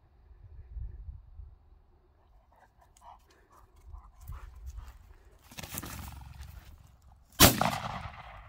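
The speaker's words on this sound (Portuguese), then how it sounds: "mais um tiro para lá, dois tiros" Shotguns are fired in the field during training of a German Pointer puppy that is afraid of gunshots: scattered faint thumps, then a loud sharp report near the end that rings out, with low background noise.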